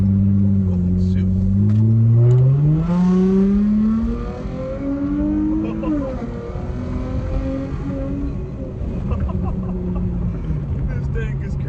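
A car in sport mode accelerating hard, its engine note climbing steadily in pitch through a gear and then dropping, loud and close throughout, with a person's voice speaking briefly over it.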